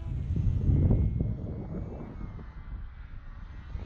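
A small RC model airplane runs its engine at full throttle with a steady, strong drone that fades a little as the plane moves away. Faint voices can be heard in the background.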